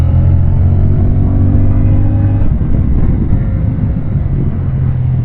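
CFMoto 450MT adventure motorcycle engine accelerating on a test ride, a loud continuous rumble whose tone shifts midway as the throttle opens, with wind noise and no talking.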